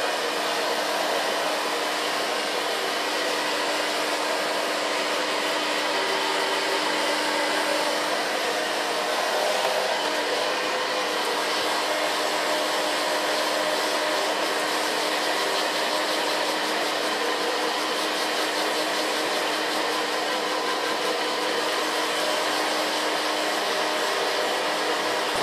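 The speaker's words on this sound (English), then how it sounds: "I'm just going to blow dry it with the use of my fingers" Hair dryer blow-drying a short pixie haircut while fingers work through the hair, a steady, close whooshing roar with a faint tonal hum that runs unbroken throughout.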